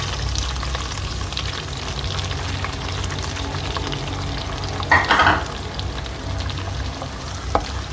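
Garlic cloves and three onions fry in oil for a turai sabzi, giving a continuous loud sizzle with a low rumble beneath, broken by a short burst of spattering and a later scrape, no talk.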